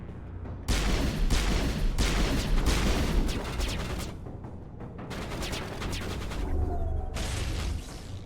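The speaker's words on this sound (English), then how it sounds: "Shooting at us." Sustained gunfire from the video game Mass Effect, a dense, loud barrage of rapid shots in several bursts that pause briefly and resume, with crackling impacts layered throughout and no voices.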